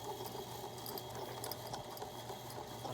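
A drain cleaning cable snake machine runs continuously while clearing a sink stoppage, a steady close mechanical whir with a fast rattling, ticking rhythm and no talking.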